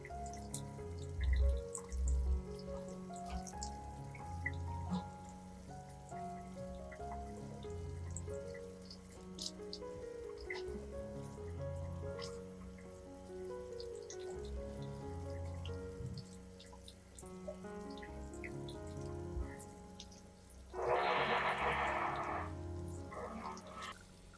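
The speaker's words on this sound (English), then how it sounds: "Rinse the plant thoroughly under a gentle stream of clean water." Near the end, a gentle tap-water stream briefly splashes over an orchid plant being rinsed, a soft two-second hiss beneath steady background music.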